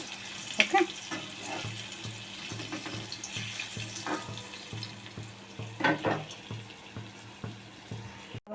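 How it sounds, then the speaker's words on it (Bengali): Bora fritters fry in a pan of oil with a steady soft sizzle and hiss, broken by a few light clinks and scrapes of a utensil against the pan. "বড়াটা ভাজা চলছে, বড়াটা আরেকটু ভাজা হবে।"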